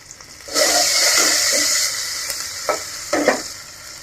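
Bay leaf, onion, a whole garlic bulb and green chilli hit hot oil for a Bengali egg curry, bursting into a loud, close sizzle that hisses on, with a few scraping stirs toward the end.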